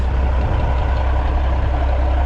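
A big truck with chicken lights idles at night, a loud, steady low engine rumble running without a break, close by.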